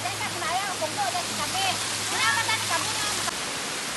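A waterfall in the province roars with a steady wash of rushing water, close and loud, while voices talk and call out over it.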